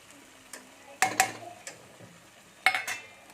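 Yogurt being stirred into spice masala in a pan gives a few sharp clinks and taps of a utensil against the pan, scattered and irregular over quiet background.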